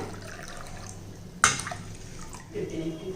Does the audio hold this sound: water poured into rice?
yes